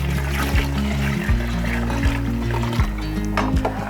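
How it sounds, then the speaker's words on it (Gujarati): Water is poured into a cooking pot of vegetable khichdi, a continuous close trickling and splashing flow over a low steady hum of the burner, with no voices. "હવે થોડું પાણી ઉમેરવાનું"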